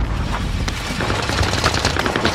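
Dense, continuous automatic gunfire in a multiplayer shooter game, a loud rapid rattle of overlapping shots with booming low end, sustained without pause.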